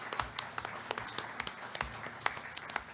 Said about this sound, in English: I think everybody needs a huge round of applause.